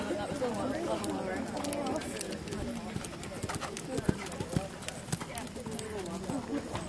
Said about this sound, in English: Last rider of the division, Melissa Guter, riding Kalando.